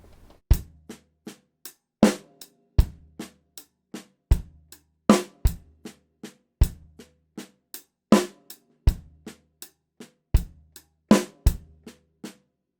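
A drum kit plays a paradiddle groove with every bass drum in, sharp separate hits in a steady repeating rhythm with deep kick thumps under snare and cymbal strokes, close and alone.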